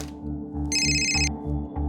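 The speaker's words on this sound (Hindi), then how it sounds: "जरा देख तो किसका फोन है।" A telephone rings in repeated electronic bursts over a steady low hum, the trilling tone loud and close.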